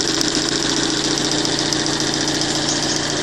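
A diesel engine converted to run fully on LPG idles steadily and loudly nearby, giving an even, continuous mechanical drone with a faint knocking texture and no voices.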